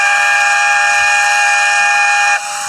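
A train horn blares as one loud, sustained multi-tone blast lasting over two seconds, then drops off abruptly near the end, alone with no voices.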